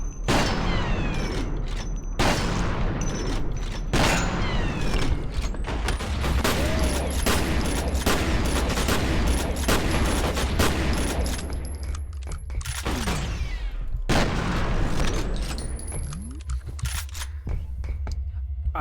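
Assault rifle fire in the shooter game F.E.A.R.: Perseus Mandate, with dense bursts of rapid shots and booming impacts, loud and close, running almost continuously with brief gaps between bursts.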